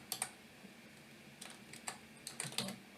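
Quiet, close typing on a computer keyboard, scattered clusters of light key clicks with short gaps between them, no voices.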